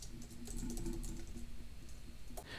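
Close, quiet typing on a computer keyboard, a quick run of light clicks and taps lasting a couple of seconds with no voice over it.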